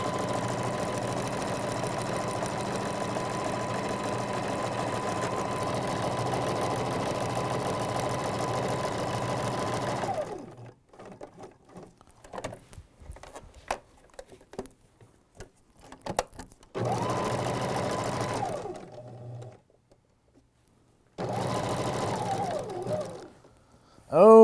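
A sewing machine stitches a regalia design with needle and thread, running in steady whirring stretches that stop and restart in between quieter pauses filled with clicks and handling noise.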